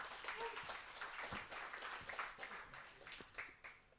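Audience at an Ethereum community meetup in Warsaw clapping, a dense, fairly quiet round of applause lasting several seconds and fading slightly toward the end.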